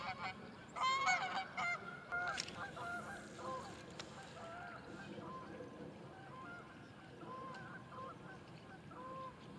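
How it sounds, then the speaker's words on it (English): Geese honk repeatedly in the near distance, their calls loudest early on, over a steady outdoor background of wind and water. "Check out those geese."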